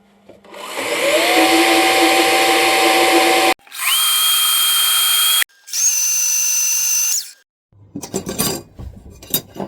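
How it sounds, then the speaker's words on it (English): Three bursts of a power drill drilling steel, each ramping up to a steady high whine and stopping, followed by rattling metallic clatter. "I'm going to just basically start cutting some steel, drilling it"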